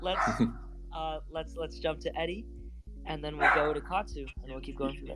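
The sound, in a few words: dog barking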